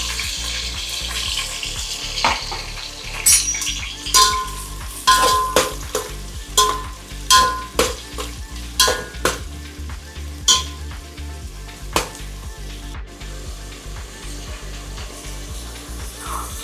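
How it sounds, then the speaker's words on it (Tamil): Chopped onions go into hot oil for a hotel-style chicken curry, giving a steady close sizzle broken by repeated stirring scrapes and clatters, with some water or tap-like noise early on and no talking. "காஞ்சதுக்கப்புறம் நம்ம இந்த வெட்டி வச்ச வெங்காயத்தை நம்ம சேர்த்துக்கலாம்."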